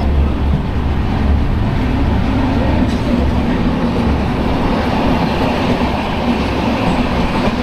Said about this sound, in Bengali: আমরা যে ট্রেনটায় যাচ্ছি সেটা হচ্ছে কুলিক এক্সপ্রেস